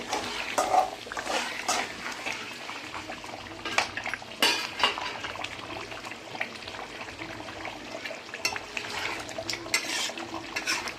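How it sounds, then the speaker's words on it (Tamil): Bubbling simmer of green tomato gravy with a spoon scraping and clinking against a pot, stirring in irregular strokes, close up and moderately quiet. "நல்லா கொதிக்கட்டும்."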